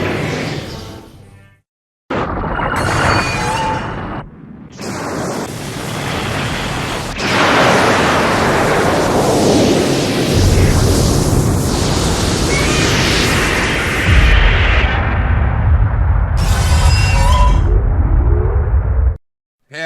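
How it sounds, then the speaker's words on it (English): Mechagodzilla fires a plasma grenade: a series of loud, blasting bursts of roaring, explosive noise with whooshing energy and deep rumble, cutting in and out abruptly before a sustained heavy rumbling blast. "Firing plasma grenade."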